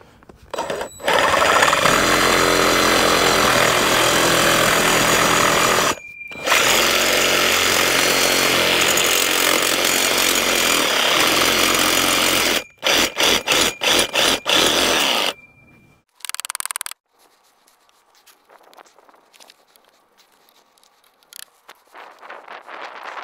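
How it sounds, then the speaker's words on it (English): A power saw cuts through a hydrant pipe while a PEX water line runs from a city meter to a house, a loud continuous grinding whine broken by short pauses and ending in quieter scattered handling noises. "I think I'll cut it off about right in there."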